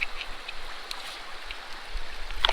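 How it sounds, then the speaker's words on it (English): River water rushes steadily through a gold sluice fitted with a dream mat on the Kern River, a close, even hiss with a few small splashes and gravel ticks. "My sluice, my dream mat doing its thing here on the Kern River."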